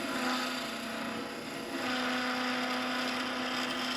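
A wooden yoyo spinning on a lathe while a turning tool cuts its curve, giving a steady whirring hum with a scraping, rasping edge that holds evenly throughout.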